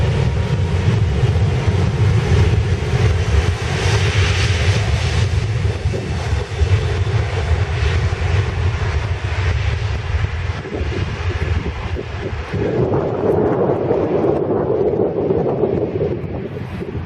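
Jet airliner at Miami International Airport throttling up for takeoff, a loud, sustained roaring rumble with wind buffeting the microphone, the tone shifting as the aircraft passes.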